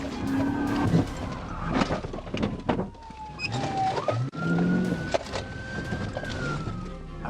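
An SUV's tires squeal and skid loudly as a police PIT maneuver spins it out of control, long screeching tones rising and falling over engine roar and road noise, with brief impacts and rattles near the end.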